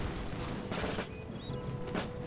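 Musket volleys crackle through a battle in Empire Total War, with scattered shots and a ragged fusillade at moderate distance, several bursts rising and falling over a steady battlefield din.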